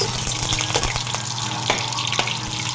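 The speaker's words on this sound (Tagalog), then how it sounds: "Unahin na igisa yung bawang. Sunod ang sibuyas." Garlic and onion sautéing in hot oil in a pan for Filipino ginataang gulay, a steady close crackling sizzle with a few faint clinks of stirring, no voices.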